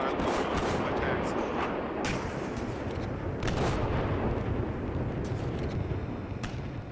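Artillery fire in the tank simulator Steel Beasts Pro PE during a heavy bridge-crossing battle: a dense, continuous roar with repeated sharp booming blasts, heavy and close throughout.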